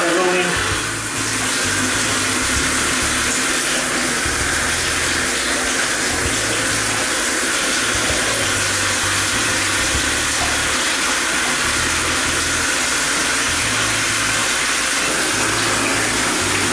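Water gushes steadily from a faucet into a tub or sink during a house pre-inspection, a loud continuous broadband rush that fills the whole stretch without pause.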